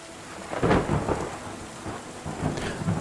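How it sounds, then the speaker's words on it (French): Rolling thunder over steady rain in a video game thunderstorm, with low rumbling swells building and fading across a constant patter of rainfall, no voices. "je kiffe le bruit des orages"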